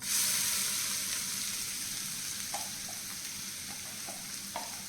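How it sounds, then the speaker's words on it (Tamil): Chopped onion, ginger and garlic fry in a pan with a constant close sizzle, a few soft scrapes of stirring near the end, and no voices. "வெங்காயம் ரொம்ப கோல்டன் ப்ரௌனாக வதங்கணும்னு அவசியம் இல்லை ஆனால் லைட் கோல்டன் ப்ரௌனாக வர வரலாம்"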